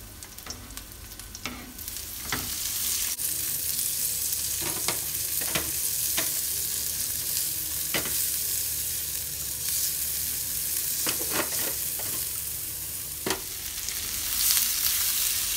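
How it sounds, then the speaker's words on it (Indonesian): Garlic, shallots and chili sautéing in frying oil for fried noodles, a steady close hiss and sizzle broken by scattered scraping stirs. "Masukkan sedikit minyak goreng. Tumis bawang putih, bawang merah, dan cabenya sebagian masuk"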